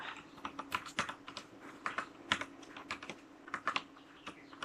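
Close, crisp clicks of a computer mouse, mixed with what sound like keystrokes, in quick irregular bursts with short pauses over a faint steady hum.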